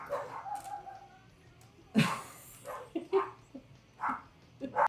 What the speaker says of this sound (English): Dogs are going crazy. I don't know what the dogs want,